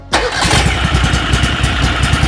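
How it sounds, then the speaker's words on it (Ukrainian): A Loncin LC2V90FD two-cylinder 35 hp engine starts on the electric starter with the choke pulled, catching almost at once and settling into a loud, close, steady throbbing run. "Витягуємо повітряну заслонку і заводимо."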